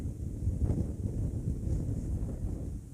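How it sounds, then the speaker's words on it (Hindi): Cold mountain wind rushes steadily past during a motorcycle ride toward Pin Valley in Spiti, a low, dull buffeting roar that fills the whole stretch without voices. "सर्दी बहुत लगने लग गई, ठंडी हवा चल रही है।"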